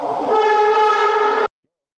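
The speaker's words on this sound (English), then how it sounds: "I'm at the stoplight and the train just went by" A train rolls past a stoplight, its horn sounding as one loud, sustained blast heard close up that cuts off abruptly, leaving silence.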